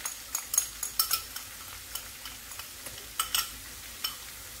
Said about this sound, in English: you stir them very well